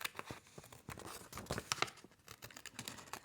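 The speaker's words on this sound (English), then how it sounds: "that just makes it easier to stick your scissors in and cut around the oval" Paper-thin food packaging being cut around an oval with scissors, a close, busy run of crinkling snips and tearing rustles filling the whole moment, with no voices.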